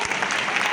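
An audience claps together in a dense, steady burst of applause that fills the short moment, loud and close, with no pauses.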